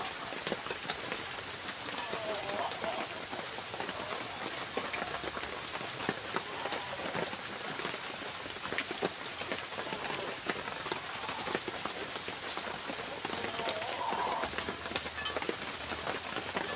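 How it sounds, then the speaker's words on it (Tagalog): Rain falling in the rainy season, a dense steady patter on surfaces that runs unbroken throughout, moderately loud and close, with faint voices in the background. "Tagulan. Ulan talaga yan."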